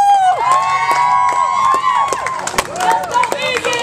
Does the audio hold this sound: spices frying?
no